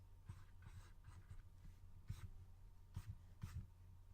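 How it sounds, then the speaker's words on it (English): Pencil sketching facial features on paper: very quiet, close scratchy strokes in short irregular bursts over a faint low background hum, with no talking. "I'm just gonna quickly sketch out the defining features."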